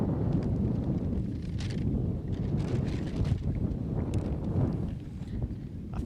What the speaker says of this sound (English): I feel like I'm just feeling wind the entire day.